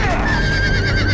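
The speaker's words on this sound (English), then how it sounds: "And now a horse on top of him." A horse neighs loudly in a Telltale Game of Thrones video game scene, a sustained whinny over dense game sound and background noise, close and prominent.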